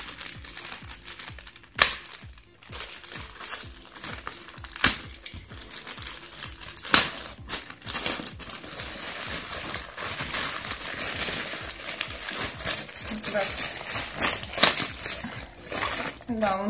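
Crinkling and rustling of plastic wrapping, close up, with scattered sharp crackles and tearing sounds as packaging is pulled open.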